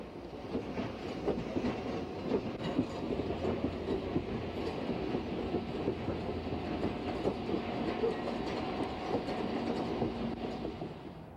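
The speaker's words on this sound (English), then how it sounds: "The train backs into a track in the intermodal yard after successfully negotiating the Y." The Union Pacific 3985 Challenger, an oil-fired steam locomotive, backs its train into an intermodal yard track with a continuous rolling rumble and clatter of railcars, steady and moderately near with no voices.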